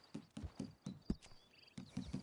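Horse hooves clip-clop at a steady walking pace in the video game Red Dead, quiet and close, with evenly spaced hoof strikes and a brief jingle of tack.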